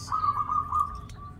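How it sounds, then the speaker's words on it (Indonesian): A zebra dove of the bedah karang type coos nearby, its clear, loud, rolling notes sustained and then trailing off with a short final call. "perkutut bedah karang perkutut bersuara keras"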